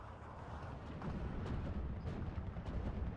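Gunfire in the Steel Division 2 strategy game as anti-aircraft units are strafed by fighters, heard as a continuous, dense, rumbling barrage of shots and blasts with a few sharper cracks, steady and fairly loud throughout.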